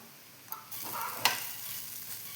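Soft, steady sizzling of fish frying in oil, with a brief stir or clatter partway through, fairly quiet and close.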